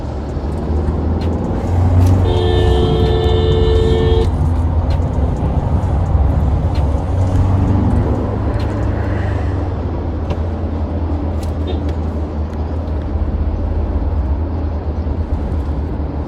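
Tata Safari XZ+ driving in sports mode, its engine giving a steady low drone with road and cabin rumble heard from inside, a brief electronic chime sounding near the start.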